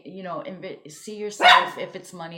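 A dog barks once, sharply and close, midway through a person speaking calmly, the bark briefly overlapping the talk.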